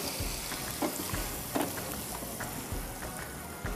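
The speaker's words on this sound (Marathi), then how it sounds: "हा, ती झालेली आहे फोडणी." Sesame seeds sizzle in a hot tempering (phodni) for a chutney, a steady close crackling hiss with a few sharper pops, no voices over it.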